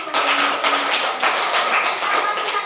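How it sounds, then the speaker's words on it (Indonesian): Primary school class clapping hands together during a teaching session, a brisk run of loud, fairly rhythmic claps from a group of children in a classroom, close by. "beri tepuk tangan dulu."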